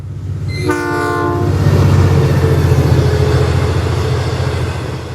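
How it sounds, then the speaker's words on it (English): An EMD diesel locomotive engine rumbles loud and close, its deep throbbing drone steady throughout, with a brief horn blast near the start. "like all EMD locomotives, they sound awesome"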